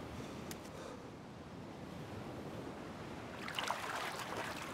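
Splashing water from a player swimming in the survival game DayZ, a steady broadband wash with louder sloshing strokes near the end, heard alone without talk.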